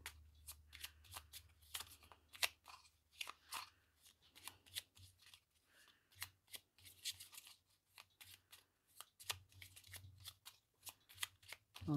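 Tarot cards handled and shuffled close up, a run of quick riffling bursts and soft card slaps in an irregular rhythm, fairly faint with no talk.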